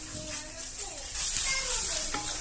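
Chicken pieces with green chillies frying in a pan are stirred, giving a close, steady sizzle with scraping strokes of the spoon.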